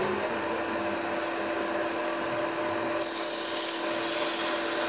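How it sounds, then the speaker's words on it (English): Power sander at reduced speed working a wooden cigar ashtray, a close, loud continuous abrasive whir that brightens and intensifies partway through. "Turn the speed down a little bit to sand"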